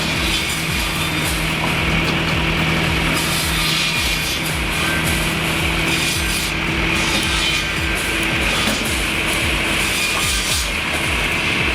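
A firewood processor, PTO-driven or electric, cutting wood with a continuous loud grinding, rasping roar and steady machine drone throughout, with no talk.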